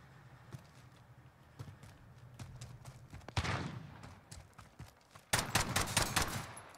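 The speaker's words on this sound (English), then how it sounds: "At least one of those shots hit." Gunshots from the Call of Duty Modern Warfare gun game mode at night crack out in scattered single reports, then bursts of rapid fire grow louder near the end, with light footsteps between shots.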